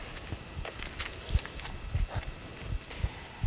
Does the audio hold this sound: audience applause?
no